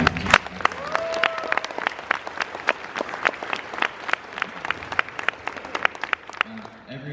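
A convention panel audience at Toontown Rewritten's Toonfest panel, OMG!Con 2016, claps steadily for several seconds, with individual hand claps standing out sharply near the microphone and a brief voice heard at the start.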